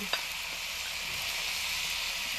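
Turkey breast and ham pie filling sizzles steadily in a pan on a Kamado Joe grill while being stirred, a continuous close frying hiss with one brief clink at the start.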